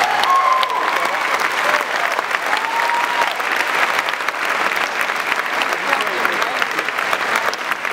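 An audience at a youth best-in-show judging applauds steadily, a dense wash of clapping that keeps going throughout, with a few faint voices in the crowd.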